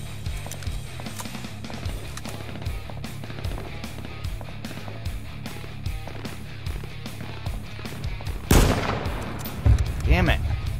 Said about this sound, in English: I'm shooting definitely at different people.